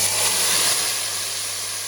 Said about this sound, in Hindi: अभी मैं लगाने लगी हूँ इसको तड़का।